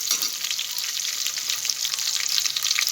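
Chopped onion frying in a pan for a village-style chicken curry, a steady, close, bright sizzle with crackling spatter running the whole time and no voices over it.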